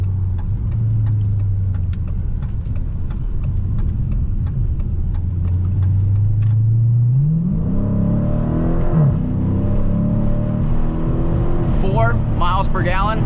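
A 2020 Dodge Challenger Scat Pack Widebody at wide open throttle merging onto a freeway: a steady low engine drone heard from inside the car swells and climbs sharply in pitch through the gears, loud and close.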